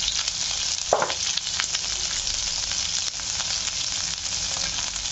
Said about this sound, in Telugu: అలాగే ఇందులో కొన్ని పచ్చిమిరకాయ ముక్కలు వేస్తున్నాను పచ్చిమిరకాయ ముక్కలు అలాగే ఉల్లిపాయలు ఒక రెబ్బ కరివేపాకు